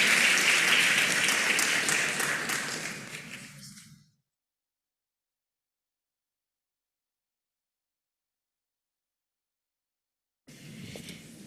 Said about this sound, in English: And so now, a final round of applause for Kathleen